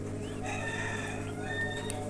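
Sick chickens cluck and call in short bursts over a steady low background hum.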